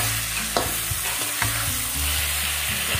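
Eggplant and pork belly stir-fry in a pan with loud, continuous sizzling and repeated scraping knocks of a utensil against the pan, no voices.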